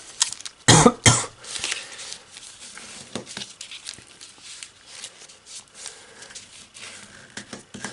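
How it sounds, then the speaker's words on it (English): A pair of harsh coughs up close, followed by quieter rustling and small handling sounds. "I'm coughing because I'm getting over from being sick."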